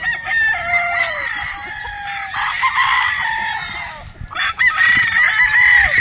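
A Boston Roundhead broodstag rooster crows loudly and close, two long cock-a-doodle-doo calls separated by a pause, with soft clucks and low background noise.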